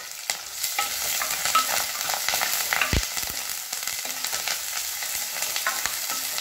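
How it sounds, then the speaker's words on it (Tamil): Onions, dried red chillies and curry leaves fry in a pan with a constant crackling sizzle, while intermittent spatula stirs and one sharp knock punctuate the close, steady frying. "நல்லா சிங்கி விடுங்க, வெங்காயம் கலர் மாறட்டும்"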